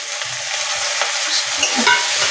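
Chopped tomato sizzling and frying in a pan with ginger and garlic, a steady close crackling hiss with light stirring scrapes and no talk.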